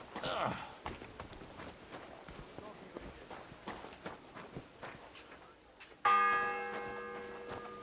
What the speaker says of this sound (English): The first bell. Another 11 to go.